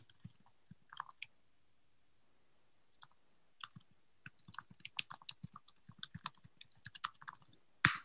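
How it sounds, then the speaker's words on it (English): Irregular bursts of computer keyboard typing, faint and fairly close, with scattered clicks in quiet gaps and a sharper key tap near the end. "So I'm typing right now."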